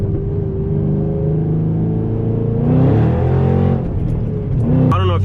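Exhaust note of a 2013 Shelby GT500 fitted with a Corsa Extreme axleback, rumbling steadily up close, swelling into a louder rev midway and ending with a sharp burst, with voices talking over it.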